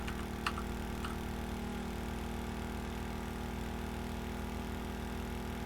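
An engine in the Stormworks: Build and Rescue video game runs at low RPM, giving a steady, quiet, even hum that holds unchanged, with a couple of faint clicks near the start.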